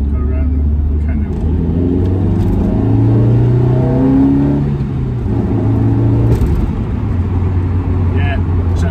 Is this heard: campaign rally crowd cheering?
no